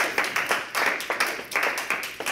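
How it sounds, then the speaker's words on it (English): A small audience at a network marketing talk gives a brief round of applause, a handful of people clapping in uneven bursts that rise and fall over a couple of seconds. "Can I have a round of applause?"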